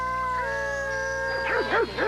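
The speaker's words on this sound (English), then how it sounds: "they yip and howl and bark practically all the time." Dogs yipping and howling in a wavering, rising and falling chorus, close and sustained, with pitched yips near the end over steady background tone.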